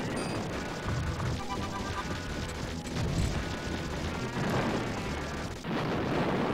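Explosions in the World War II shooter game 1944, a dense run of booms, crashes and rumbling blasts that keeps going without a break, loud and close.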